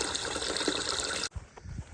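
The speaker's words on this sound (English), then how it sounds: "About to water our mums." Water splashes and trickles steadily onto potted mums for over a second, then stops abruptly, leaving only faint drips and small bumps.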